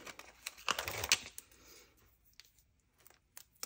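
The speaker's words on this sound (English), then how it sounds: "and then we'll cut this one like that" Scissors snip through card stock at close range in a quiet room: a cluster of crisp cutting strokes early on, then fainter scattered clicks and rustles of paper being handled.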